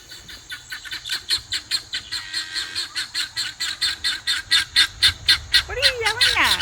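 A flock of ducks calls loudly and repeatedly in a fast, steady rhythm of honking quacks, close by, with a brief squeal near the end.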